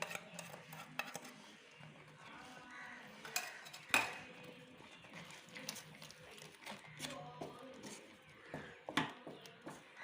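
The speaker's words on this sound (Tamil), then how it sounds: "வெல்லம் ஆட் பண்ணி நல்லா மிக்ஸ் பண்ணி விட்டுருங்க." A spoon stirs jaggery into rice kheer in a pot, with soft scraping and occasional metallic clinks against the pot, quiet and close.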